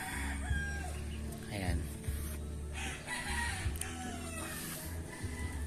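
A rooster crows repeatedly at a chicken farm on a property lot in Cabuyao, Laguna, with clucking hens around it and a brief spoken word at a moderate distance.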